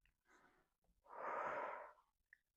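Slow, close breathing during a back-stretching exercise: a soft short breath, then a longer, fuller exhale, quiet and alone.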